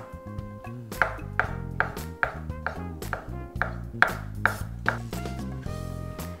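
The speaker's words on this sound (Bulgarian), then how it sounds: "Нарязвам яйцата отново на ситни копчета." A knife chops boiled eggs finely on a cutting board for a Russian salad with potatoes, carrots, pickles and ham, giving a steady run of crisp, close taps about every third of a second, with no talk.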